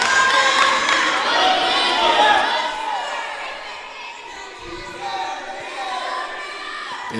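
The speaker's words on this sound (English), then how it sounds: "the crowd here is really, really into this" A college men's wrestling dual meet crowd cheers and shouts loudly and steadily, with excited voices and whoops filling the gym, easing slightly midway before swelling again.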